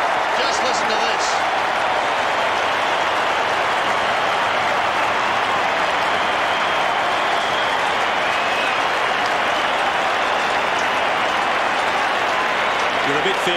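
Large Australian football crowd at the MCG during a 1995 AFL Richmond versus North Melbourne match, a loud sustained roar of cheering and clapping filling the stadium continuously, with a commentator talking over it.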